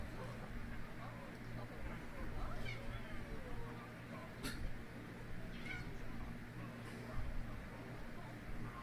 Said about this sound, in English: my cat's making very odd noises in the corner